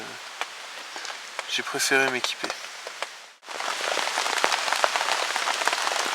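Steady nighttime rain patters densely on a nearby surface at a bushcraft camp, briefly preceded by a few spoken words in French before the downpour sound fills everything.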